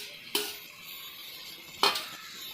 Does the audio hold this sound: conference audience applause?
no